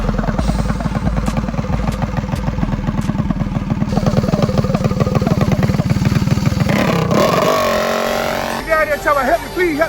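Mini bike engine in an eighth-mile grudge drag race in south Florida, loud rapid rattling engine revs up close, rising in pitch and then fading as it pulls away, with music over it near the end.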